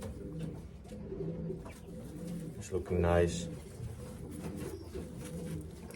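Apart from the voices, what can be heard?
racing pigeons cooing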